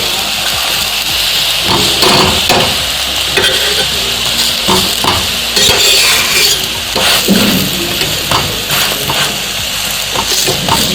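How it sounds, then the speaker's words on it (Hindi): A makai mooli paratha roasts in refined oil on a hot griddle while being pressed down by hand, giving a loud, steady, close sizzle with scraping and pressing sounds throughout. "पराठा है इसलिए ऑयल तो लगाना जरूरी है। आप घी भी लगा सकते हैं, हमने रिफाइंड ऑयल लिया है। ऐसे इसको दबा दबा के धीरे धीरे हम सेकेंगे"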